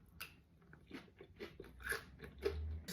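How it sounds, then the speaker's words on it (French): Teeth bite into crispy potato salad with cucumber and red onion, giving a few soft, close crunches and chewing sounds in a quiet kitchen. "On va déjà se faire un petit crunch test."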